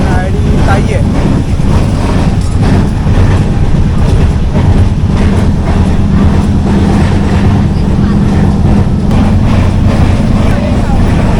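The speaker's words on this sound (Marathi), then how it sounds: "रत्नागिरी दिवा पॅसेंजरने आपण प्रवास करतो आहे" The Ratnagiri–Diva passenger train rumbles loudly and steadily from inside a coach, with faint clickety-clack over the rails throughout.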